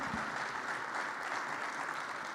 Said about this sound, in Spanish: El aplauso para Rodolfo Santangelo.